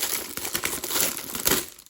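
Crinkly paper packaging from a Shein order rustles and crackles up close in a quick burst of handling as it is opened, loud and continuous for a couple of seconds.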